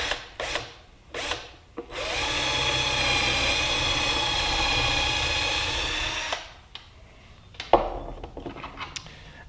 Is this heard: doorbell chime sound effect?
no